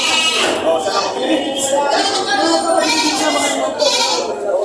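Goats crowded at a livestock market bleat repeatedly and overlap, several near calls rising above a busy background with people talking.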